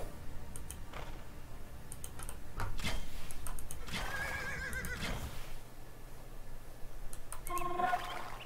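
A knight's horse in Age of Empires 2 whinnies loudly, then neighs again briefly near the end, over faint ticking clicks and quiet game background sounds.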